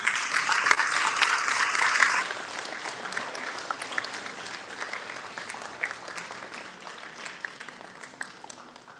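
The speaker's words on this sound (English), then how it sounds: "please give them a big round of applause" Steady, sustained applause from a large audience at a senior high school graduation ceremony, loudest at first and then thinning slightly into a continuous patter of many hands clapping.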